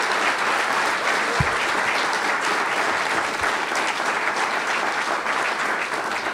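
Audience at the UNC Asheville Athletics Hall of Fame ceremony giving a round of applause for the inductees, dense, steady clapping filling the room from start to end.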